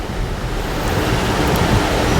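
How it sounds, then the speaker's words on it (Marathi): Heavy monsoon rain in the Sahyadri hills of Konkan pouring over a car windscreen, a dense, constant wash of noise with a cool wind, steady and close throughout. "पाऊस खूपच सुंदर चालू झालेला आहे. गाडीच्या काचेवरून वाहणारे हे पावसाचे थेंब, गार वारा"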